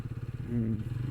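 A motorcycle engine idles on a neighbourhood road near Garchumuk, Howrah, with a steady low throb, a brief rise in pitch midway, then settles back into its rhythmic chugging.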